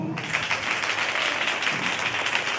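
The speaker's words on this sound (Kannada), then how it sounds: "ಹುಬ್ಳಿ ಧಾರವಾಡದ ಒಂದು ಚಪ್ಪಾಳೆ ಹೊಡೆಯಪ್ಪ." A crowd at a cricket tournament event claps together in a dense, continuous round of applause, loud and even throughout.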